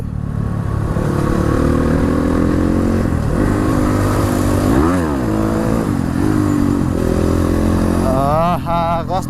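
An RM Cross Fire dirt bike engine drones loud and close on a dirt trail ride, its pitch rising and falling with throttle changes, one sharp rev midway and a higher revving bike joining near the end.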